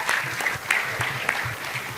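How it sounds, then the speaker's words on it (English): An audience at a masterclass with an HR executive in India gives a round of applause, steady rapid clapping from a moderate-sized crowd, close and fairly loud throughout. "One round of applause for this guy."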